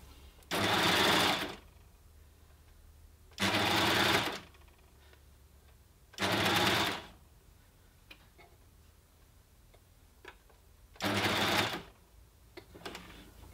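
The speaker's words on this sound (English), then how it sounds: "I'm just going to line those up with the needle guides and just stitch over a few stitches over the end just to secure everything." An overlocker runs a cover stitch on jersey fabric for a dress in four steady whirring bursts of about a second or two each, close and clear, with quiet pauses and light clicks between runs.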